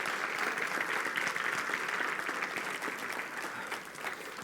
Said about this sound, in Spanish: Denle un fuerte aplauso aquí